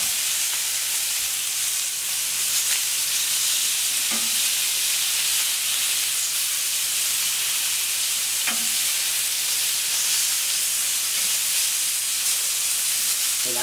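Duck aiguillettes sizzle steadily on a very hot plancha at 250 degrees, a loud, constant hiss and crackle with a few soft clicks.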